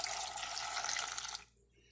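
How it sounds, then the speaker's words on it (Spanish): Tap water pours steadily into a cooking pot holding chiles and tomatoes for tamales de pollo a la hierbabuena, a loud continuous splashing stream that stops abruptly near the end. "Vamos a ponerle agua."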